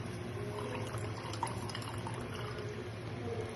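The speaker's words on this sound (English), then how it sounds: "Be patient, let the water drain off" Cooking water draining off freshly cooked pasta, a steady low trickle and drip running continuously and fairly close, with no talk over it.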